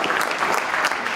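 A concert audience at a swing orchestra's Sunday afternoon show in a community art center, clapping in a brief, dense burst of applause.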